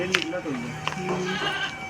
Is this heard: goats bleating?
yes